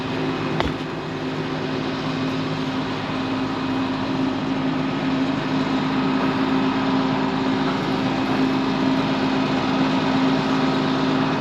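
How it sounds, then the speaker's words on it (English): An old John Deere 40 series 4430 tractor with front wheel assist idles, a steady low diesel rumble with an even hum, continuous and fairly near, with no speech. "Got another old 40 series tractor here, 4430, front wheel assist."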